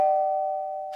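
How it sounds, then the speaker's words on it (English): A cartoon doorbell gives a single clear electronic ding, loud and close, ringing out as a steady sustained tone that fades slowly over about a second. "The doorbell's ringing because Fire connected the wires together."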